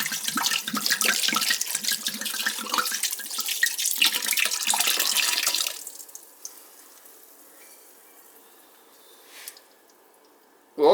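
Wine pours in a steady, splashing stream into a pork and vegetable stew for about six seconds, close and fairly loud, then stops, leaving faint drips and quiet kitchen background.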